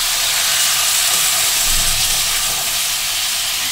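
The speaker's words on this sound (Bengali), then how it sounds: "দিয়ে দইটা দিয়ে মা আরেকটু ব্রোকলিটা নেড়ে ছেড়ে নিচ্ছে ভালো করে।" Broccoli stirred with yogurt in a hot pan gives off a loud, steady, broad hiss of steam and sizzle throughout, with no distinct stirring strokes and no talk.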